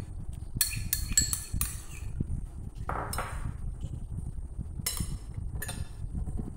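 A spoon clinks and taps against a bowl while mixing Thai sauce with tomato sauce for a pansit pansitan salad. The metallic chinks come in irregular bursts over a low rumble of stirring, close and fairly quiet, with no talk.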